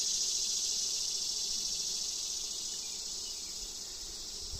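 A dense crowd of honeybees covers a hive frame, their steady droning buzz running close and unbroken, easing a little toward the end, with no voices.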